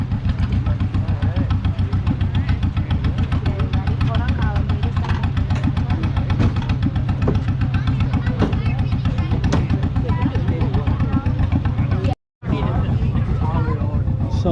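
A tractor pulling a Christmas hay ride at Joanna Furnace chugs along with a steady, rhythmic low engine throb, close and continuous, while people talk over it and the sound cuts out briefly near the end.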